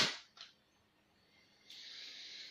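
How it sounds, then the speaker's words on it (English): A shell-ejecting gel blaster toy pistol fires one sharp crack followed by a quick smaller snap, then a thin steady hiss, close and short with no talking. "Shoot my other gel blaster."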